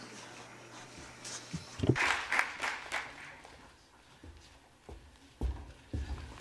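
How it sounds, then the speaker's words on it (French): An audience at a conference on African infrastructure claps after a World Bank vice-president is introduced. The applause is fairly quiet, with a burst of claps near the start that thins into scattered, distant clapping. "On l'applaudit bien fort."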